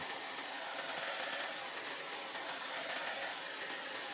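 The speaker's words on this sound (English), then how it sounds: "all I'm using is a little bit of heat from my wife's blow dryer" A blow dryer runs steadily as it heats upholstery fabric over a cushion being stapled, a constant airy whoosh without pauses, at moderate loudness and with no speech.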